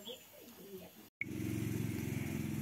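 Faint bird calls, then a brief silence before a water pump motor kicks on and runs with a steady, loud, throbbing hum.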